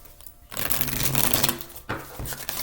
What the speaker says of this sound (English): I'm going to pull a few cards from the tarot